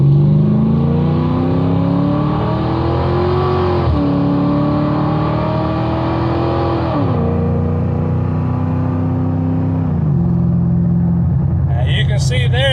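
Engine of a car fitted with an AOD automatic transmission pulls hard under acceleration, its drone rising in pitch then dropping at each of several gear shifts, loud and close throughout.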